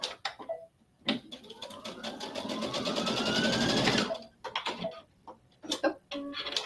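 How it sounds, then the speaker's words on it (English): A sewing machine stitches quilt fabric strips in one steady, close burst lasting a few seconds, with soft handling clicks and someone speaking quietly before and after. "I'm going to sew on this side."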